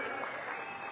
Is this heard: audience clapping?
yes